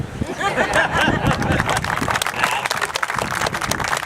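An audience claps at a Navy Club Ship 40 Memorial Day ceremony, scattered then fuller applause from a crowd outdoors, with some chatter mixed in for about four seconds.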